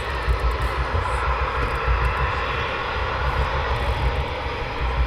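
A Eurofighter Typhoon jet taxis at RAF Coningsby at night, a steady, continuous engine roar and whine holding at moderate distance without pause.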